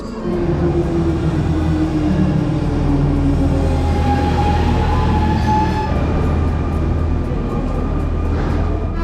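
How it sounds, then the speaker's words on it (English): Steady low rumble and hum of a moving double-decker train near Paris heard from inside the carriage, constant and fairly loud, with faint tonal whines over the rolling noise. "We're on a double-decker train!"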